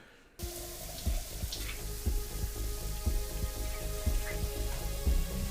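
Shower water running steadily in Daredevil: Born Again, a continuous hiss of spray with soft splashes and thuds over it, close and fairly quiet after a brief silent start.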